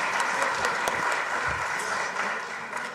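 Members of a provincial legislature chamber clap in a scattered, moderate round of applause, with a few sharper individual claps standing out against a steady background wash and faint room murmur.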